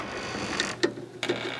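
Wrench work loosening a body mount bolt on a Mercedes W201 190E: a few sharp metallic ratchet clicks in separate bursts, close and clear, with no talking.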